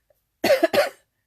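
A person with allergy-irritated sinuses gives two quick, close coughs in a row, sharp and short, followed by quiet.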